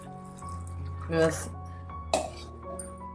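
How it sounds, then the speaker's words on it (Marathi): Water poured into a vessel of mixed sprouted pulses before pressure cooking, heard as two short splashing bursts over a steady low hum, with a voice present. "तर आता ह्याच्यामध्ये मी पाणी घालतीये"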